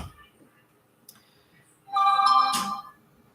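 A phone's notification tones sound in a quiet room: a faint brief chirp near the start, then a louder, clear tonal chime lasting about a second, close and alone.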